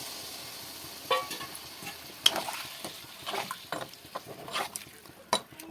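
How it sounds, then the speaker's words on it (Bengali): Prawns for achar chingri are stirred and fried in a pan, giving close sizzling with irregular scrapes and clinks of the spatula against the pan. "ভালো করে এটাকে কষাবো।"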